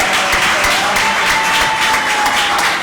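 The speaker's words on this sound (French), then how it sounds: "applaudissements pour le Seigneur." Congregation applauding during a French-language church service, a dense steady wash of clapping lasting the whole stretch at even loudness.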